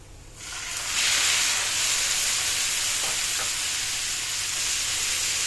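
Onions and peppers frying in a pan as tomatoes are added, loud continuous sizzling that swells after a soft start and stays steady, with faint stirring clicks and no talk.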